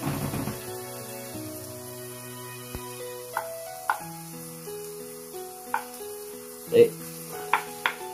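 Onion and ginger frying in a pan for batchoy give a soft, steady sizzle, punctuated by occasional spatula taps and scrapes, all beneath gentle background music.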